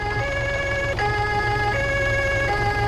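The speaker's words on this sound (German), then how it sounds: "Das ist doch Ansage-Sirene, oder?" A wailing emergency siren in the video game Arma 3 rises and falls in steady alternating tones, loud and close, with a low engine rumble underneath.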